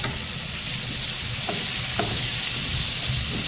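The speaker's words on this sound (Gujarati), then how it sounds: "હવે પહેલા કાંદા એડ કરી દેવાના. ચડવા દેવાના." Onions and tomato frying in a pan for pav bhaji pulao make a loud, continuous sizzle close by, with a few faint stirring clicks and no voices.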